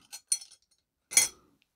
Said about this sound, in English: Let me grab my knife out of here.